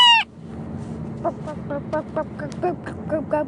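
A person imitates a rooster, starting with a short, loud, falling crow-like call, then a quieter run of clucking, crowing syllables repeated in an uneven rhythm over steady background noise.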